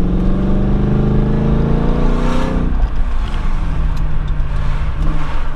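A V8 engine in an Audi Allroad 4.2 C5, with exhaust cut-off valves set just before the rear mufflers, rumbles loudly and steadily from a passenger's position, its tone rising and then settling into a deeper, continuous drone.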